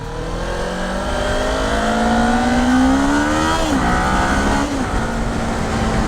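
A Kawasaki Ninja 400 motorcycle accelerating onto a highway, engine pitch rising steadily through the gear, briefly dropping at a shift and climbing again, under constant loud wind rush.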